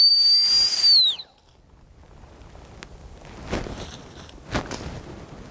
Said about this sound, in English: nice response on the whistle